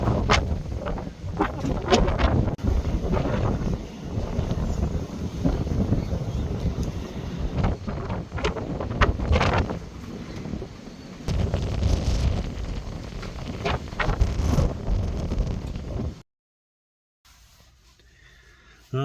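Strong storm wind roars and buffets against the microphone in continuous loud gusts, rising and falling for about sixteen seconds before cutting to near silence, with no clear voices.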